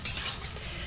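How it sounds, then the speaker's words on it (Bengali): Meat being stir-fried as kosha in a pan, a brief close burst of hissing sizzle with a quick stirring scrape. "এখন এই মাংস কষা হচ্ছে"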